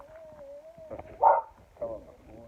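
A dog whines and yips in a high, wavering tone, with two short louder yelps in the middle, close by during a bike wash at home.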